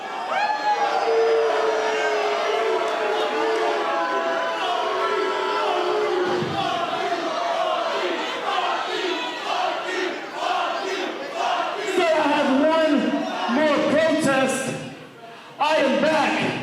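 Wrestling crowd at a FEST Wrestling championship event booing and shouting loudly and continuously, with jeers rising and falling, under a voice talking over the noise.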